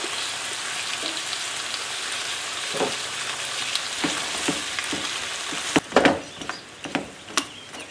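Pumpkin and onion sizzle steadily in a frying pan, a constant crackling hiss with occasional louder pops and scraping stirs near the end.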